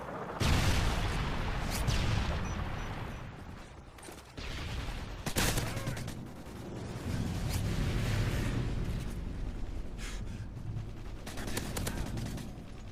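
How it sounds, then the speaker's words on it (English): Predator missile strike in Call of Duty MW3, with loud continuous explosions and gunfire rumbling throughout, several sharp blasts punching through a dense battle din. "Friendly Predator missile inbound."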